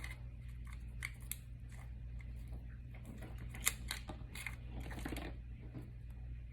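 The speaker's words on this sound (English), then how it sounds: "Let's go ahead and trim those tails." Scissors snip the excess ribbon tails on a handmade greeting card, a quick series of small, crisp cuts close up and fairly quiet over a steady low room hum.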